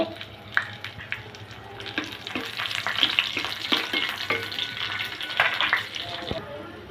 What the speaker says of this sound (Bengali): রসুনটা বাজা হলে এখন দিয়ে দেবো তিনটা শুকনা মরিচ তিনটা কাঁচা মরিচ ভেজে নেব